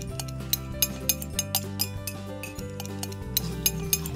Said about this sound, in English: let's stir it together